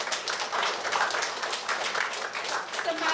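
A school audience gives sustained applause for a class representative, with dense steady clapping throughout and no pauses.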